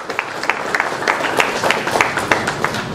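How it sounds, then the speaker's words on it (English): An audience at a corporate launch event for Gestetner of Ceylon, a document solutions company, claps steadily in a burst of indoor applause, many hands fairly close, with no speech over it. "Shall we all put our hands together and give them another big round of applause?"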